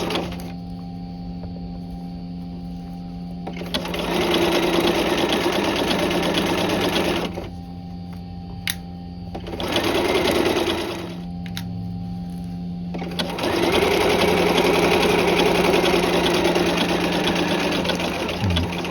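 Sewing machine stitching back and forth over the stitching line on a jacket front, running in three separate bursts of steady mechanical whirring and clatter, close and fairly loud, with brief quiet pauses between runs.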